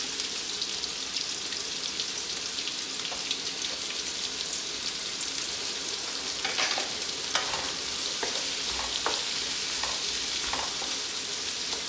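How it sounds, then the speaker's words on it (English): Onions browning in a pan give a steady, close sizzle, with scattered clicks of stirring near the end and no talking. "Just brown the onions."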